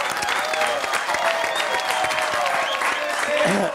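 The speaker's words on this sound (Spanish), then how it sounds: "un aplauso para Pato." Dense, steady applause from a big crowd at a talk show, with cheering voices and whistles mixed into the clapping throughout.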